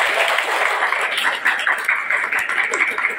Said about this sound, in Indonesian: Kuy, tepuk tangan dong.